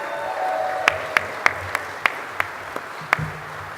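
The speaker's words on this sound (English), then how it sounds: "Let's have a nice round of applause for Keith." Applause at a gala awards dinner, heard as a faint crowd wash under a series of separate, sharp claps nearby, irregularly spaced, with a low murmur underneath.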